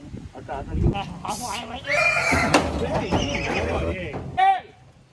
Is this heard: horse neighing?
yes